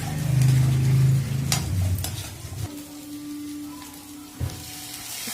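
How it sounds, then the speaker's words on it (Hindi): Leftover rice frying in a pan with soybean and green chili, a steady sizzle with a stirring scrape that fades to a quieter crackle, plus a brief clatter of the utensil near the end. "ये हमारे रात के बच्चे चावलों को हम फ्राई कर रहे हैं बच्चों के लिए।"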